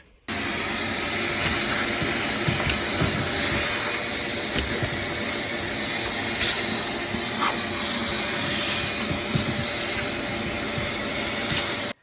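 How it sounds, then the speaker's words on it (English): A vacuum cleaner cleans up debris around a drywall hole repair, running steadily and loudly throughout, a constant broad whooshing drone with no pauses. "I'm just going to take the vacuum cleaner and clean it."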